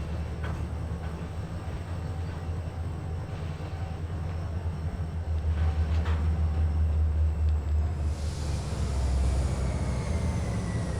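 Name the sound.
train slowing into station, video game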